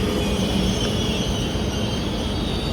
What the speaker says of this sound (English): So guys, this is the bullet train